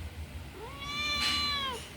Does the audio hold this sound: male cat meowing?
yes